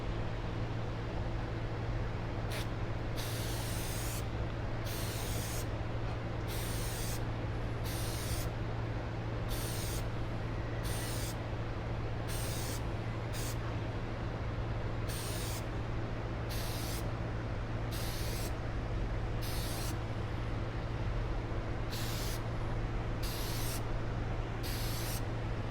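An aerosol can sprays filter oil onto the top edge of a K&N air filter in a long run of short hissing bursts with brief pauses between, close and steady, with no talking.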